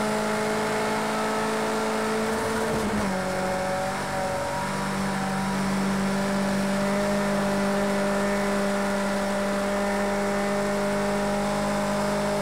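A Ford RS200 rally car in the racing game Project CARS 2 drones at a steady, loud engine note with a harsh, rattling buzz. The pitch dips briefly early on and then holds a constant tone.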